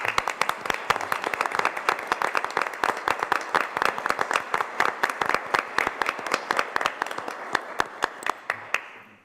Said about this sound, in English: I would like to hear a round of applause for these people.